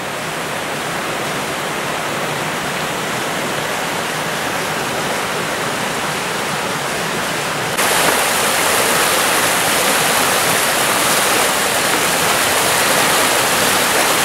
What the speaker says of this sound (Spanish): este es el río que pasa por debajo de lo que es el molino